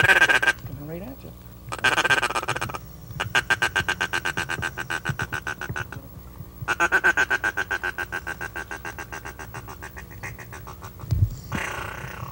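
A hunter blows a duck call during a duck hunt, producing long rapid runs of evenly pulsed quacking notes in several loud sequences, with brief pauses between them and a low thump near the end.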